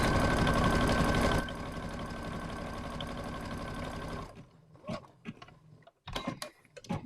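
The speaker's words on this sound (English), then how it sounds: "It's really satisfying sewing, by the way." Rapid sewing machine whirr stitching through fabric and wadding runs loudly for about four seconds, slows and stops, then gives way to scattered handling clicks and rustles.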